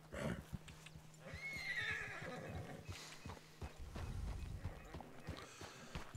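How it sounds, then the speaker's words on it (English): Wild horses in the Red Dead Redemption 2 game whinny nearby while hooves clop steadily in an irregular rhythm, with one clear neigh early on and footfalls throughout. "Some wild horses."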